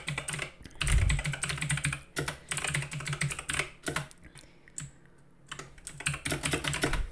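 Rapid bursts of typing on a computer keyboard, close and crisp, with clusters of key clicks separated by short pauses and a quieter gap near the middle, no speech.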